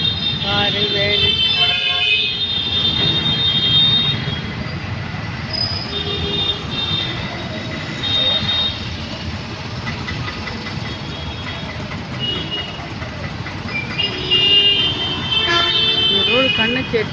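Busy Chennai road traffic with share autos, autos, bikes, cars and vans, a steady dense rumble with repeated horn toots and squeals throughout, under someone talking.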